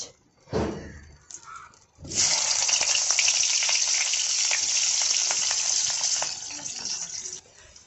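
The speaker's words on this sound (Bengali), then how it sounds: "তো আমি পরানে তেল দিয়ে দিয়েছি, এখন দিয়ে দেবো পেঁয়াজ।" Chopped onions drop into hot oil in a pan and burst into a loud, bright sizzle that holds steady for several seconds, after a short softer splash and some handling noise at the start.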